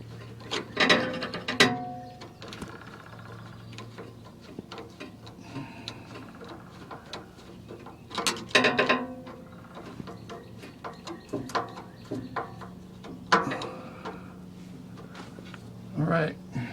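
Ratcheting clicks from tightening a bolt on a Ford Bronco tie rod, with bursts of rapid mechanical ticking, some clanks and handling noise, close and moderately loud.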